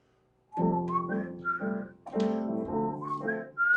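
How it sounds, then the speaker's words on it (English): A person whistles a short tune, a series of clear wavering notes, close up with no other sound. "Not a good whistle."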